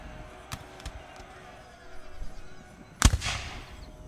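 Cannon and musket fire in the video game Empire: Total War, a 1600s colonial English battle: scattered distant pops and cracks, then one loud sharp blast near the end that rumbles and fades, with no speech.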